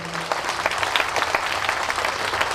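A church congregation applauding at a Mass, dense steady clapping from many hands filling the room, fairly loud and sustained throughout.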